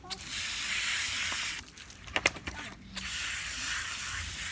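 Hose water spraying onto a 4-H show lamb being washed, a loud steady hissing spray that cuts out briefly for a few knocks and rustles, then resumes.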